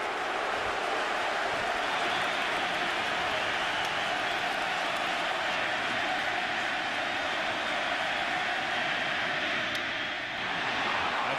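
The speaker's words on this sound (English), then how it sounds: "Ball 1 gets a reaction from this Yankee Stadium crowd." A large crowd at Yankee Stadium reacting during a baseball game, a dense continuous roar of voices that holds steady and distant, dipping slightly near the end.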